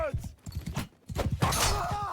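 Horse hooves galloping in the video game Mount & Blade II: Bannerlord, a rapid rhythmic clip-clop with combat impacts and crashes, heard under a man's speech.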